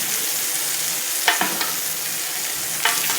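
Vegetables and garlic stir-frying in butter for a chicken steak with mushroom sauce, an even bright sizzle running throughout, punctuated by a few short scraping clicks of a spatula against the pan.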